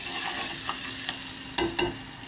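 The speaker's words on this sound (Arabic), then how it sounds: "هنعمل لها طشه" Garlic tempering (tasha) sizzling in leftover onion-frying oil in a pan for koshari sauce: a steady close hiss of frying with a few sharper crackles and stirring clinks near the end.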